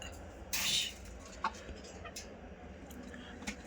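A single loud chicken call bursts out near the start, followed by a few short, fainter clucks against a low background hum.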